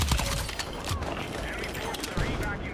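Gunfire in the first-person shooter Battlefield 6, using hollow-point ammunition: quick bursts of sharp shots and rattling reports spread through the moment, with game noise and a voice talking alongside.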